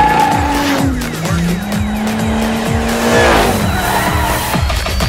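Cars power sliding through a corner in the Forza Horizon 2 video game, featuring Fast & Furious vehicles: loud revving engines with repeated gear-shift pitch drops and sustained tire squeal and skidding, close and continuous.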